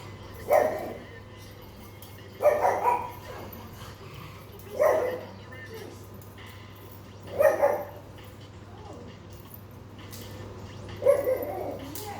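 A dog barks in five spaced bursts of two or three loud, nearby woofs each, with a steady low hum underneath.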